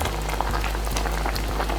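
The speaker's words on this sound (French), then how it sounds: "maintenant je vais laisser bouillir ma confiture" Watermelon and melon jam with sugar boils in a pot, a dense, loud bubbling and popping with a low steady rumble, heard up close and alone.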